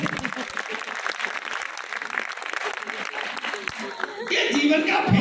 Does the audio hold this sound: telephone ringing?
no